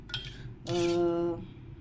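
A spoon stirs a lemon powder and sugar mixture in a pan, giving a few soft scrapes and clinks followed by a brief louder metallic ring, with no talk.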